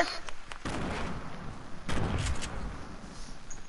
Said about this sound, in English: No, stop throwing grenades.